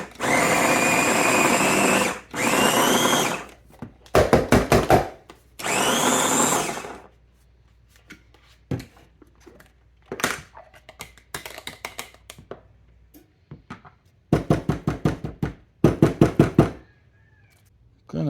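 A knife chops fish meat finely on a board to shred the pin bones, heard as several bursts of rapid, crisp strikes separated by pauses, with other voiced sounds at the start.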